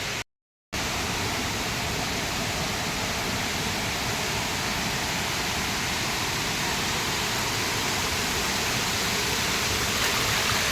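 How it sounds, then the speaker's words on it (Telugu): A waterfall at Yana in Karnataka roars as a steady, loud broadband rush with no change in level. A brief dropout near the start interrupts it. "అదే రూట్లోనే ఒక మంచి వాటర్ ఫాల్ ఉంది, అది చూపిస్తాను"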